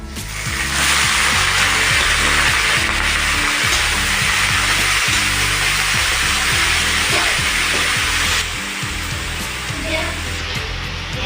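Washed mustard greens hit a pan of fried garlic and green chilli, letting out a loud, continuous sizzle with occasional stirring clatter that eases slightly near the end.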